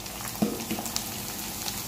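Chopped big onion dropped into a pan of frying green chillies, a soft, continuous crackling sizzle with a few small pops and clinks, moderately close, with no talking.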